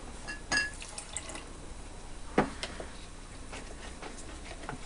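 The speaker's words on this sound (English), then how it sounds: "we're simmering nicely now." Homemade sweet pickle thickened with corn flour simmers quietly in a pan, giving a low steady bubbling hiss with a couple of soft isolated pops and drips.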